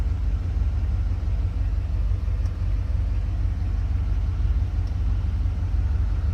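Cammed Chevrolet Tahoe V8 idling after its first start, running with no tune: a steady, loud low rumble with a choppy, lopey pulse throughout, close by and with no voices.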